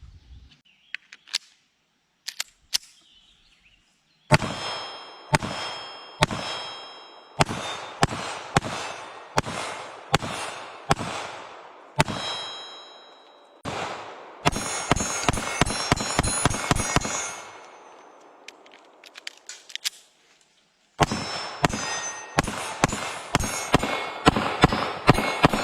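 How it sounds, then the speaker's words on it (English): Shots from a compact S&W Bodyguard 2.0 .380 pistol: loud, sharp cracks in several rapid strings of evenly spaced shots, with short pauses between strings and no talking. "for a little bitty .380, this has hardly any recoil, and this thing shoots pretty soft"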